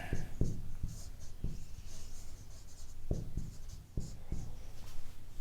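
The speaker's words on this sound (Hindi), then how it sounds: "यहाँ नंबर 1 पे लिखते हैं" Chalk or marker writing on a board during a Hindi child psychology lesson, soft scratchy strokes and a few light taps, faint and intermittent against room background.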